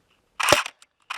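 Novritsch SSE18 airsoft electric gun with a cold battery: internal mechanism whirring briefly before a sharp, close snap of the shot, followed by a faint click and another short mechanical burst.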